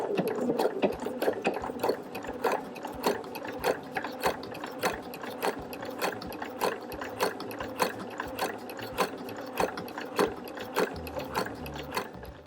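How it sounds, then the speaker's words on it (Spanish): Domestic sewing machine running a steady, rapid stitching rhythm through a chenille fabric seam, evenly repeated clicking mechanical strokes throughout, close and clear with no voices. "La siguiente costura la damos alineando el borde del prensatelas con la costura que ya hemos realizado"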